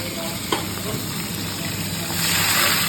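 Curry leaves added to hot oil alongside bay leaves and dried red chillies for a South Indian style arhar dal, giving a steady close sizzle that swells a little toward the end.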